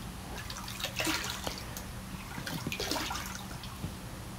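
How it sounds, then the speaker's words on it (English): Water runs and splashes as a shaving brush is rinsed out, with bursts of splashing around one and three seconds over a steady trickling background, close by and fairly quiet. "Rinsed out the brush, gave it a shake."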